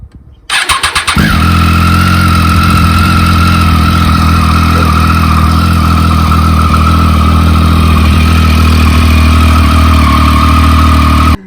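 A motorcycle engine cranks over briefly, then catches and settles into a loud, steady idle as it warms up, running close by without a break and with no talking.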